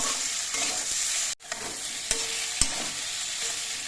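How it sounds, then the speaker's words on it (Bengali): Drumstick flowers frying in oil with sugar, stirred in a pan: a steady close sizzle with a few sharp scrapes and clinks of the spoon, with no voices. "চিনি দিয়ে নেড়ে তেলে ভালো করে মিশিয়ে নিলাম"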